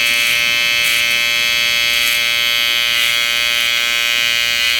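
Electric hair clippers buzz continuously and loudly at close range while cutting a design into a neck taper fade, a steady whine without pauses or voices.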